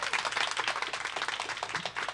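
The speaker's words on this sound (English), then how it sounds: "Let's give her a round of applause." A talk-show studio audience gives a round of applause as a guest is introduced, with a close, busy flurry of hand claps filling the moment at an even level.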